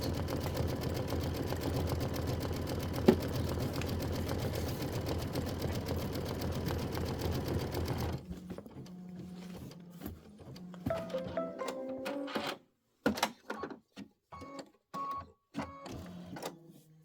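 A Kimberbell embroidery machine stitching a winter appliqué quilt block runs with a steady, loud mechanical hum for about eight seconds, then stops, leaving scattered clicks, knocks and handling sounds.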